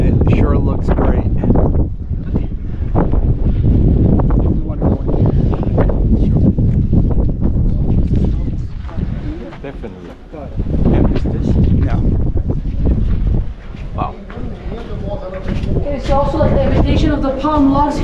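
Heavy wind buffets the microphone in loud, rumbling gusts at the Step Pyramid in ancient Memphis, Egypt, nearly drowning out a person speaking underneath.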